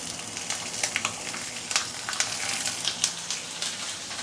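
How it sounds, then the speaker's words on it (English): Small fish pan-frying in hot oil in a wok, a steady soft sizzle with scattered crackling pops and spits, close and fairly quiet, with no talking. "We're going to pan fry the fish first."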